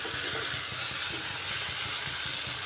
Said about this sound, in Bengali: মশলাটা খুব সুন্দর কষানো হয়ে গেছে